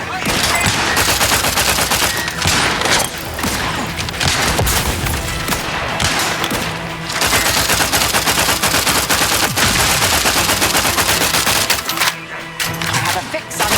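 Sustained, loud automatic gunfire from the video game The Outer Worlds 2, dense rapid bursts with brief pauses and impacts, continuing nearly throughout with a short lull near the end.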